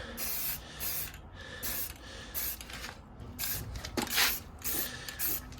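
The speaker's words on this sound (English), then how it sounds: "A little bit of overspray right there, so we'll just kind of blend it out with" Spray can of primer hisses onto a Toyota Tacoma truck under panel in a series of short, loud, close bursts separated by brief pauses.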